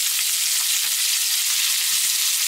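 Salmon sizzling in a pan with melted butter, garlic cloves and thyme sprigs, giving a steady, dense hiss of frying that stays close and loud throughout with no voices.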